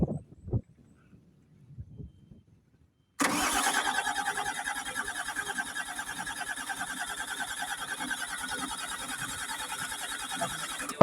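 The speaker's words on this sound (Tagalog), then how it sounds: "Ang hirap niyang paandarin, guys." A backhoe excavator engine that is hard to start sits quiet after a few faint clunks, then catches with a sudden roar and settles into a loud, steady rumbling idle nearby.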